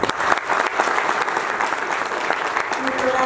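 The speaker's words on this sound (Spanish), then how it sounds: "Un aplauso." A crowd applauding steadily at the opening ceremony of a national Caritas meeting in Cancún, dense clapping from many hands at moderate volume, continuous throughout with a faint voice briefly underneath.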